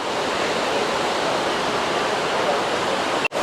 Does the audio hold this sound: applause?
no